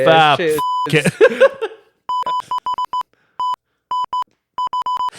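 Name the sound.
censor bleep beep over a swear word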